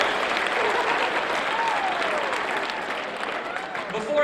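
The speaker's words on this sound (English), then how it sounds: "Give yourselves a round of applause then for being a good audience." An audience gives itself a round of applause: dense, sustained clapping from a crowd filling the room at steady loudness, with a voice briefly audible through it.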